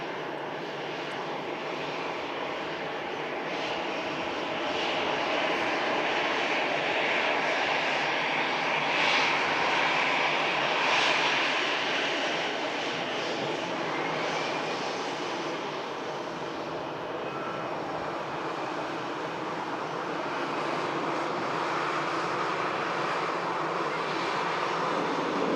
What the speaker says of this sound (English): EasyJet next to land in from Amsterdam, and that'll be followed by our Qatar triple.